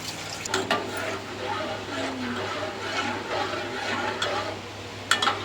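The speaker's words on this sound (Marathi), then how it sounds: "कड येईपर्यंत ढवळत राहावं लागतं ना ग" A spoon scrapes and stirs through thick curry in a pan, steady and close, with a few sharper clinks near the end.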